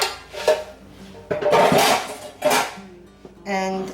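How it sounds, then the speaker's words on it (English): A cooked turkey loaf is turned out of a metal meatloaf pan onto a plate in a home kitchen, giving a few scraping clatters and thuds of pan against dish, with a brief voice near the end. "I am going to take it out of my meatloaf pan. Slide it onto a plate."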